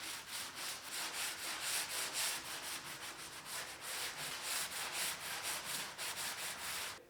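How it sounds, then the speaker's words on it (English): Light hand sanding across wood with fine 220-grit paper, a soft, even rasping in quick back-and-forth strokes that keeps up a steady rhythm close by. "I'm going to go ahead and sand this down"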